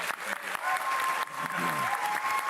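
A crowd claps steadily and loudly, with a voice speaking faintly beneath the applause.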